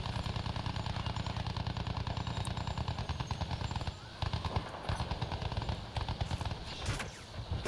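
Fighter plane battle in Battlefield 1 with rapid, sustained machine-gun fire rattling loudly and continuously, briefly easing midway before resuming, over a droning aircraft engine.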